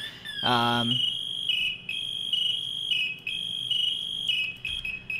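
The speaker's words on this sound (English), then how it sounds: "right now you can hear my pass device going off." A PASS device alarm goes off inside the firefighting video game EmergeNYC, sounding as a loud, continuous high-pitched electronic tone with slight shifts in pitch after a short rising start.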